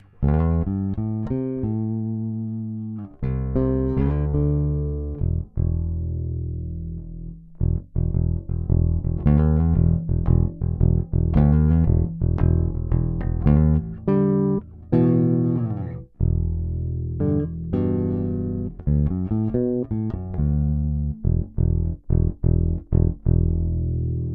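A clean, undistorted bass guitar plays a continuous run of plucked notes and riffs, fairly loud and steady, with no voices.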